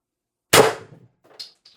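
A sharp, loud pop as an IntruBuster Gen 2 air gun fires a 10-gram S-type shaped pellet at 800 PSI, followed by a short decay and a faint metallic tick a moment later.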